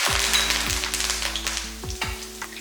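A sprig of curry leaves drops into hot oil for a South Indian lunch-box dish, giving a close, steady crackling sizzle over a low background hum, with occasional small stirring scrapes.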